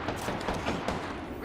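In Apex Legends, the character Ash fires a rapid burst of gunshots, dense and loud throughout, while a voice speaks over the shooting.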